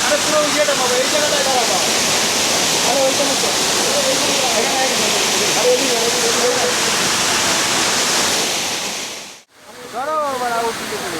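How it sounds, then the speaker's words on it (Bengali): Waterfall water pouring at the base of a fall on Ayodhya hills, a steady loud broadband rush throughout, with people talking over it and a brief dropout near the end. "সেই লাগছে কিন্তু ঝর্নার জলটা তাই না"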